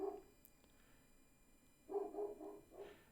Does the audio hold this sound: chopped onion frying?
no